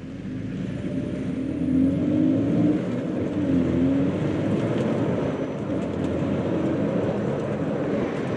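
A Hyundai Ioniq Electric with an 88 kW motor accelerates without downshifting, heard from inside. A loud, steady whir of motor and road noise rises slightly with a faint tonal whine and holds without gear changes.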